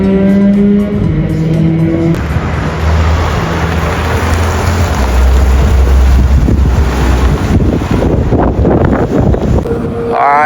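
Race cars, including a Honda Civic, running wheel to wheel at Fuji Speedway in Japan; loud, steady engine roar with shifting pitch and wind buffeting, continuous throughout with no voices.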